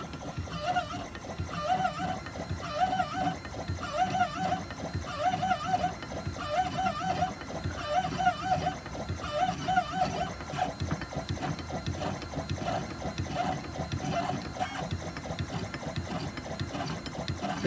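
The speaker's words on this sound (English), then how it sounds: "And this is an is400 by Gravograph, and we'll be engraving Stephanie." A Gravograph IS400 engraving machine cuts into a curved anodized aluminum tag, giving off a steady mechanical whir with a repeating rhythmic chatter of short buzzing strokes. The chatter fades partway through while the motor hum carries on.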